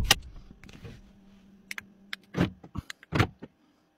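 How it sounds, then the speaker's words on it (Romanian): A car's trunk lock actuates after a new key is programmed: a short mechanical whirr followed by a few sharp clicks and clunks, close by, in an otherwise quiet setting. "Port bagaj, s-a auzit."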